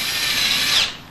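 A drill drives screws into a wooden door panel, giving one steady, loud, close mechanical whir that runs without a break and tapers off at the end.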